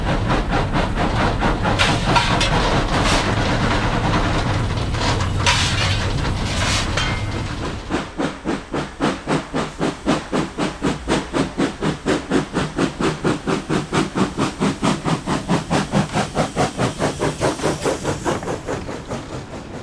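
A heavy steam locomotive fired with wood pellets, a centenarian engine, begins hauling a heavy train: a loud steady steam roar gives way to rapid, regular chuffing exhaust beats close by, with no talk.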